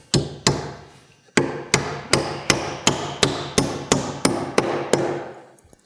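A hammer drives 16-penny nails into floor joist blocking during floor framing: about a dozen loud, sharp strikes in a steady rhythm after two opening blows and a pause, close up with no talking.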